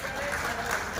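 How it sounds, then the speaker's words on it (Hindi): A crowd claps to welcome a speaker at a political rally. The dense applause runs steadily and fairly loud through the whole short stretch, with no clear voices over it. "जोरदार तालियों से"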